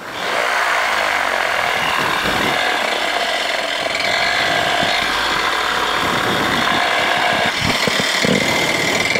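A flexwing microlight aircraft engine runs loud and steady close by, with a buzzing drone that stays unbroken throughout.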